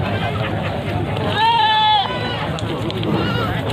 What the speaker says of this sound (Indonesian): Teman-teman itu ada yang baru datang kambingnya, yang kambing Jawa-Jawa.